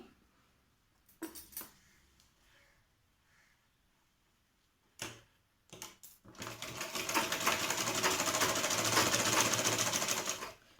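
A sewing machine runs steadily through straight stitching on a child's lehenga, a loud continuous whir taking over after a few scattered clicks and knocks near the start.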